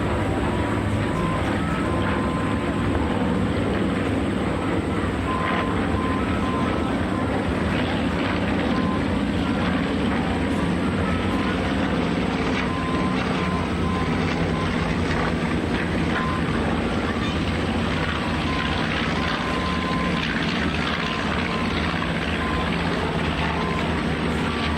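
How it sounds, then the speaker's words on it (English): A bomber aircraft flies a display at an air show, its engine drone loud and continuous throughout with a steady broadband roar and no clear pauses. "They got a bomber display"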